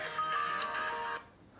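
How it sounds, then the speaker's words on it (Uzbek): A smartphone rings at full volume after a remote ring is triggered through Google Find My Device, giving a steady tonal alert with no talk, then stopping abruptly. "Qo'ng'iroq kelaveradi. Ya'ni bor ovozda keladi."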